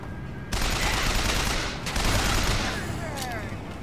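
Dense, sustained automatic gunfire in BioShock Infinite's Comstock Center rooftops, starting abruptly and continuing as a loud close rattle of rapid machine gun bursts, with a speaking voice faintly underneath.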